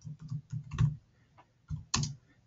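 Keys on a computer keyboard are typed in short irregular bursts of crisp clicks and taps, close and fairly quiet, with a brief pause before a final cluster of keystrokes.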